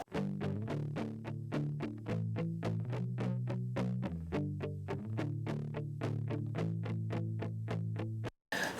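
Electric guitar with LA3A-style compression and Hitsville EQ, low mids cut and treble boosted, picking a steady line of bright, even notes close up with effects colouring, no talk.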